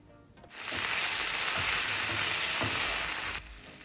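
Okra and potato pieces frying in a pan with coriander powder, garam masala and kasuri methi being mixed in, giving a loud, steady sizzle that rises suddenly, holds for about three seconds, then drops off, with no talking.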